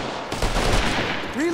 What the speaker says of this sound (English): Team, suppressing fire on my target.